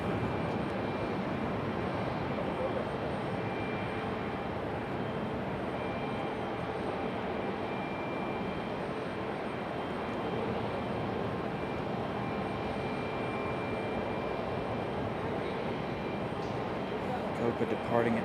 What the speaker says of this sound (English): Hey, that A319, American A319 pushing back there.